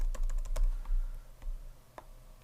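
Quick bursts of keystrokes on a computer keyboard while writing code in Visual Studio, close and clicky at first, then slowing to sparse taps.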